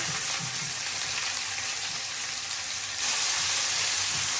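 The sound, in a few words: chopped onion frying in oil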